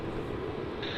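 Airliner taxiing toward the runway at Melbourne Airport, a steady broad jet engine roar heard from a distance, constant and unbroken for a brief moment, with no voices.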